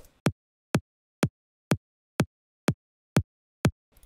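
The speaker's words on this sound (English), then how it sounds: "And the top kick sounds" A layered top kick drum for music production, thinned of its deepest sub frequencies, thumps eight times at an even, quick tempo, each hit short, punchy and isolated against silence.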